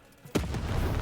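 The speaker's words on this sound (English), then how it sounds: "The button to fire the cannon." A cannon fires in the video game Lost in Random, a single sudden boom that rings out loudly after near silence.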